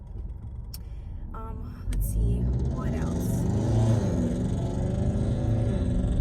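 A loud car engine rumbles and revs close by, swelling louder after the first couple of seconds and holding steady, while someone talks over it.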